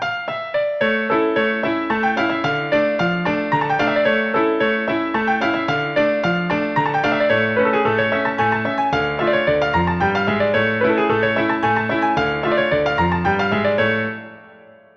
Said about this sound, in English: A fandango falseta in minor key sounds like this.